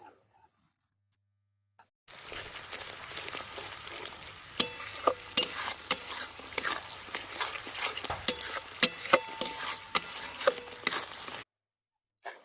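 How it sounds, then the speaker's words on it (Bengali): Melon seed spice paste is stirred together with fried eggplant in a pan. After a silent start, a soft sizzle carries irregular spatula scrapes and taps, and the sound then cuts back to silence. "এবার নেড়ে নিচ্ছে"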